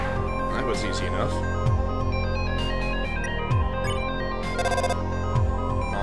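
Phone ringing in the video game Undertale, a repeated electronic ringtone pattern playing continuously over game music, loud and close, with a voice talking over it.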